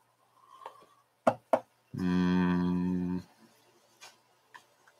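A goat on a farm gives one long, loud, wavering bleat, set between a few sharp clicks and knocks in an otherwise quiet space.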